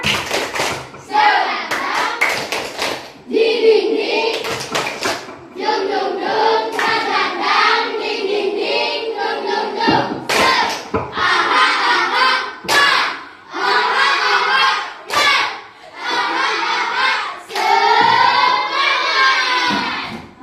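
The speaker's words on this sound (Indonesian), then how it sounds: "Tepuk semangat." Schoolchildren in a classroom perform a rhythmic spirit clap, sharp bursts of group hand claps in patterned beats alternating with loud chanted voices, close and energetic throughout.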